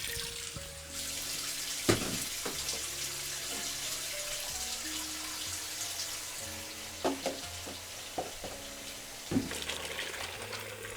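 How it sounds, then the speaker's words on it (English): Hot water runs steadily from a faucet into a washing machine as it fills, a constant hiss and splash heard close by, broken now and then by soft knocks and clunks, with no speech. "So here's a washing machine filling up with hot water."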